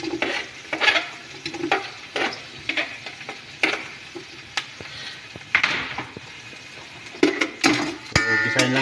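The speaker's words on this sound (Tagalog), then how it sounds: "Gisahin lang natin ng konti" Tomatoes and onions sauté in a pan for pork pochero with a close sizzle, broken by repeated scraping stirs and utensil knocks against the pan.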